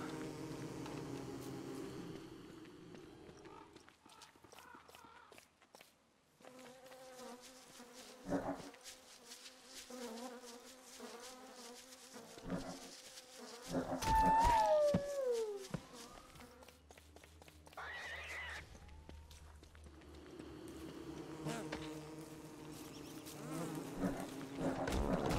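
Swarm of queen bees buzzing in a survival video game battle against a giant boss, a droning insect hum running through busy game effects and music, with sharp hits and a sweeping tone partway through.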